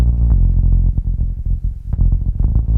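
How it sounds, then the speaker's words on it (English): Bass line run through cheap-cassette emulation, wobbling with wow and flutter and brief dropouts, a warm, dense low-end sound with uneven, fluttering loudness throughout. "it's like modeling a cheap cassette with some wow and flutter"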